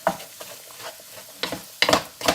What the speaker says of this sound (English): I'm adding a tablespoon of medium curry powder to that. I'll get that cooked out.